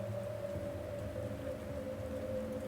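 Steady rain falls in the video game Rain Code, a constant even wash of drops with a low sustained tone running underneath and no break for the whole stretch.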